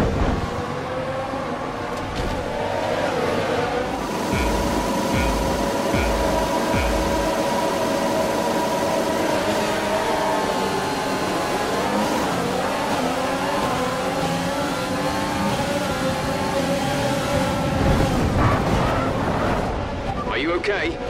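A McLaren MCL35 Formula 1 car in the F1 2020 racing game at Monza, its engine droning steadily and loudly for about twenty seconds with shifting pitch, with voices heard over it.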